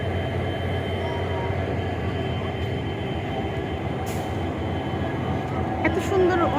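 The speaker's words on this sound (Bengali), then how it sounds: "এটা একটা অনেক বড় জাংশন, এখানে অনেকগুলা ইঞ্জিন, অনেক বড় একটা স্টেশন।" A train rumbles steadily at New Jalpaiguri, a big railway junction in West Bengal with many engines, giving a continuous low mechanical drone that swells slightly toward the end and has a brief squeal of wheels.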